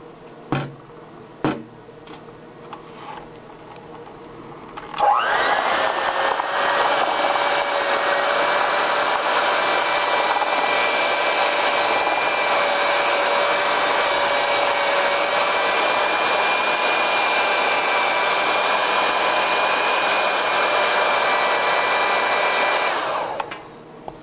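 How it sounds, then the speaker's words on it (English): An electric mixer runs on low through brownie batter, switching on after a few faint clicks and holding a loud, steady whirring drone for nearly twenty seconds before cutting off. "you want to mix this with your electric mixer on low"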